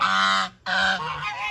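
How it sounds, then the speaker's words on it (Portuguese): A pair of farmyard geese honk loudly and close by in two harsh, nasal bursts separated by a brief pause, the second trailing into softer calls, with no talk. "aqui é meu casal de ganso"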